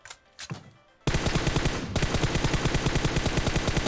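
Automatic gunfire in PUBG Mobile blasts in a sustained, loud burst of rapid rhythmic shots after a few brief quieter sounds at the start.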